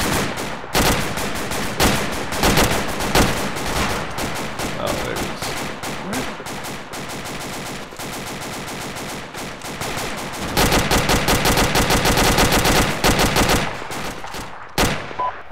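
Rapid bursts of automatic gunfire and scattered single shots from a military shooter game, Arma 2, rattle almost nonstop at close to medium range, loud and dense, with a brief lull near the end before a final crack.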